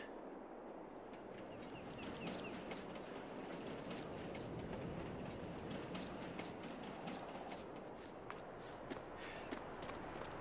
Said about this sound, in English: Alright, we get to see the train.